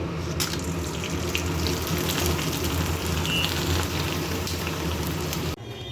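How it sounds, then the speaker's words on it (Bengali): Potato chips fry in hot oil in a home kitchen, a dense, steady crackling sizzle heard up close and alone, with no talking, easing slightly just before the end. "এবারে এই তেলের মধ্যেই একটু চিপস ভেজে নেব"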